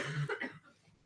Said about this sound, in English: I think you heard the coughing